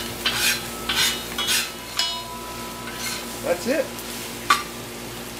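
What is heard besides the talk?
stir frying fried rice in wok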